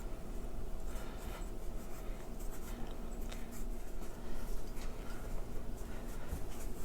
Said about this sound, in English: scrape the dough up.